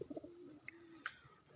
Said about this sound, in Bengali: কবুতরগুলো সব ঘরের মধ্যে রয়েছে, ঘরের উপরে দাঁড়িয়ে বসে রয়েছে